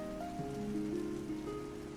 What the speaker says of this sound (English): Looks like it's raining outside.